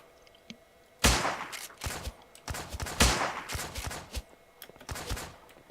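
A .22 rifle fires in the video game Miscreated, a loud sudden report followed by a quick string of sharp shots and another burst, with scattered gunfire and echoes trailing between them.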